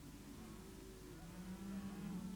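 Cattle in a stockyard being drafted, low lowing calls rising faintly over a steady background rumble, a few drawn-out moos overlapping.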